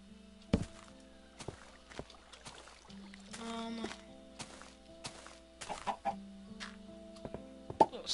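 Minecraft chicken clucking in short scattered bursts, mixed with blocky thunks and footstep-like taps throughout a fairly quiet game scene.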